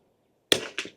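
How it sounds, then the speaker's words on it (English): A single Eley Ultra .22LR rifle shot with a supersonic crack, a sharp, close report that rings briefly and is followed a fraction of a second later by a second, softer impact or echo. "that one almost sounded supersonic. It got a crack where the other ones didn't"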